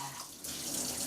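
Kitchen tap water runs into a sink during dishwashing, a steady close hiss that swells louder partway through the second, with no voices.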